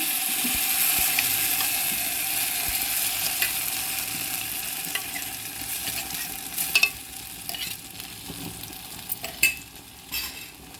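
Coarsely ground masala paste going into a pot of dill leaf sambar, with soft stirring, scraping and bubbling close by, followed by a few sharper clinks and knocks of the utensil.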